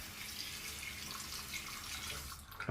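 Water runs from a tap into a bowl of shaving cream during a wet shave, a steady close splashing trickle that stops near the end.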